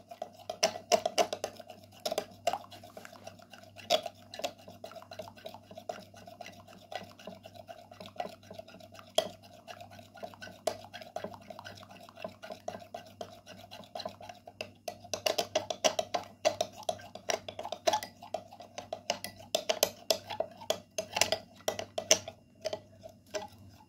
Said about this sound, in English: Again, mix very well.